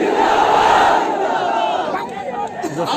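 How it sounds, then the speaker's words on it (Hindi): Large rally crowd roaring a Nara-e-Takbeer chant in unison, a loud, sustained mass shout that swells and then fades into a murmur. "अगर सच कहा तो नारा लगा हमारे साथ, नारे तकबीर"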